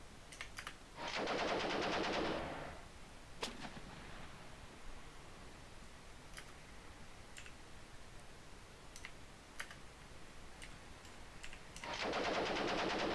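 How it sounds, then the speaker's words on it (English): Machine gun fire in the video game Armoured Commander 2, two bursts of rapid synthetic shots at the start and end with scattered sharp clicks between, fairly quiet and without talking. "We're firing about the whole MG just for memes"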